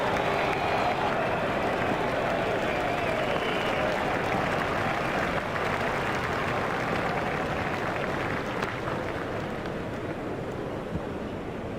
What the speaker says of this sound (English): He deserves the applaud from the crowd today